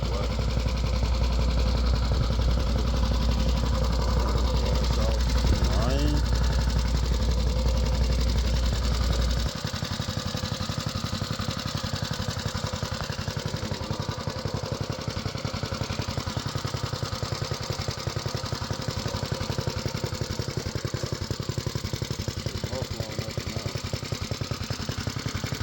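A small Manco Thunderbird minibike engine runs steadily nearby with a buzzing, mid-pitched putter. A deeper low rumble drops away after the first ten seconds, and the engine keeps going alone at a moderate level.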